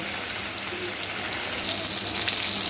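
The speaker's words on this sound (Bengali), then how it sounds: "এবার এই তেলের মধ্যে দিয়ে দিচ্ছি আগে থেকে নুন হলুদ মাখিয়ে রাখা ইলিশ মাছের লেজাগুলো" Salted, turmeric-rubbed hilsa fish tails fry in hot oil in a wok, making a loud, continuous, close hissing sizzle that stays steady throughout without pause.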